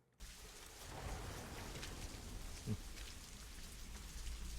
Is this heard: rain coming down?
yes